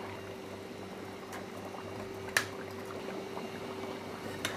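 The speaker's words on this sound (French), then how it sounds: "Une fois que l'eau bout, nous allons plonger les écrevisses dans l'eau bouillante." Pot of water at a steady rolling boil for cooking crayfish, a low continuous bubbling hum broken by a brief splash-like clatter midway and another small knock near the end, close and fairly quiet.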